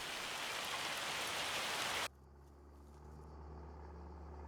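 Heavy, steady rain in the game Farming Simulator 25 hisses for about two seconds, then cuts off abruptly, leaving a low engine-like hum.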